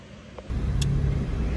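Road traffic with cars driving past on a Jamaican road, a steady low engine and tyre rumble that swells after a brief quieter start and holds fairly close and continuous with no talk.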